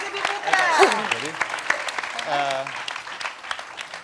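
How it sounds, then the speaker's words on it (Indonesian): Studio audience on an Indonesian talk show claps through the clip, steady applause mixed with voices talking over it and brief speech-like tones at moments. "Kita tepuk tangan dulu buat Maskirdi Putra."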